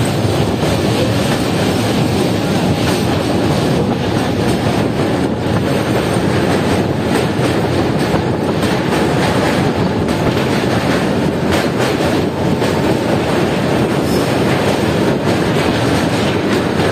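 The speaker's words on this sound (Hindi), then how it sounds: "ये देखिए दोस्तों ये पैसेंजर जो आ रही है ये कटिहार की तरफ से आ रही है" Passenger train on the Saharsa–New Delhi route running on rails, its wheels beating a loud, continuous clickety-clack that carries close and steady throughout.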